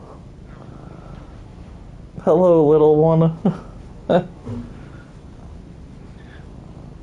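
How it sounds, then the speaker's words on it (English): A house cat purrs right against the microphone, giving a loud, close rumbling burst in the middle, with a voice speaking softly before and after. "My cat. His butt is right on the microphone."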